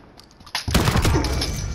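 Shotgun gunfire in Call of Duty Modern Warfare: after a quiet start, a sudden loud blast bursts in and rolls into a dense roaring spell of shooting that carries on to the end.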